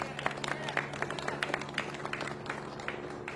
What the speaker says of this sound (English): Sheriff Luna, please, a big round of applause.